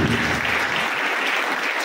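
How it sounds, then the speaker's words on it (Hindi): A congregation applauding loudly in church, thick sustained clapping that holds steady and close for the whole stretch. "पर जोरदार ताली बजाएंगे हमारे यीशु के लिए।"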